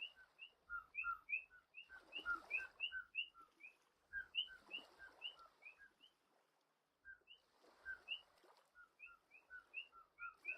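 Little frogs in the video game Vintage Story, giving rhythmic whistling calls in quick repeated runs, overlapping in a chorus over soft background rustle.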